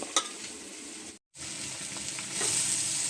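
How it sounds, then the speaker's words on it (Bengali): Potatoes and spices fry in oil with a steady, close hiss of sizzling that cuts out for a moment and then returns slightly louder. "আলু আর মশলাটা আমার ভাজা হয়ে গেছে, তেল ছাড়তে শুরু করেছে।"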